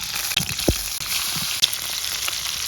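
Pieces of katla fish, coated in turmeric and salt, fry in hot oil with a steady close sizzle, broken by a few soft clinks and stirring sounds.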